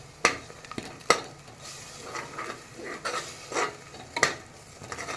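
Biryani masala and spices sauté in hot oil for a chickpea vegetable biryani, a quiet sizzle broken by several sharp spoon clinks and scraping stirs against the pan, close up.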